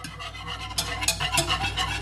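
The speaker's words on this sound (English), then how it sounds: "Just give it a stir" A spoon works melted butter and cocoa powder around a pan in short, soft scraping strokes, close and fairly quiet with a few brighter scrapes, and no talk.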